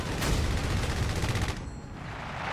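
Panzer IV tank cannons firing in Company of Heroes 3, heavy booming shots over a thick rumbling battle bed that thins out near the end.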